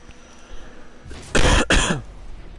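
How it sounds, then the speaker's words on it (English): A person coughs twice in quick succession straight into a close microphone during a Rocket League match, two loud, harsh bursts standing out against quiet game sound. "There's my first mic cough."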